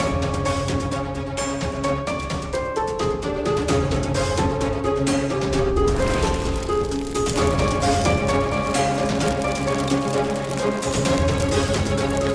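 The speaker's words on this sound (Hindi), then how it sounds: "ऐन मौके पे बारिश हो गई" Dense rain patters steadily on surfaces throughout, blended with a busy layer of background music in a devotional drama scene, with no speech.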